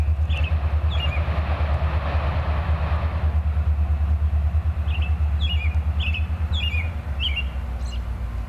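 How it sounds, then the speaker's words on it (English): A single EMD locomotive running as a light engine with no cars behind it gives off a steady low rumble and rhythmic rail clatter that fades after a few seconds, while birds chirp repeatedly nearby. "Yeah, that was a light engine move."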